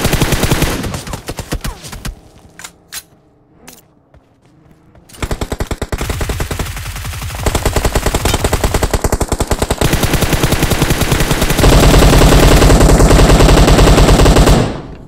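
Rapid automatic gunfire from a PUBG Mobile match, loud and sustained in long bursts, with a brief quieter lull early on before dense volleys resume and continue to the end.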